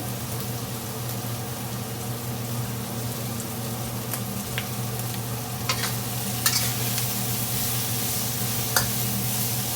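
Peppers and onions for gluten-free chicken fajitas sizzle and fry steadily in a pan, a continuous close crackling hiss with a few sharper pops and stirring clinks toward the end.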